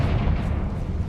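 A Confringo blasting spell exploding in Hogwarts Legacy, a deep, loud rumbling boom that fills the whole moment and rolls on without fading.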